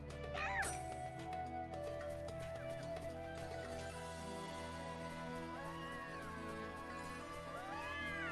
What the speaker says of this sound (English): why are they just fucking crying like cats?